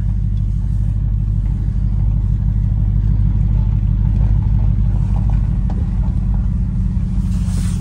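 Classic Ford car driving after 23 years in storage, a steady low engine rumble heard from inside, continuous and fairly loud with a faint rattle throughout.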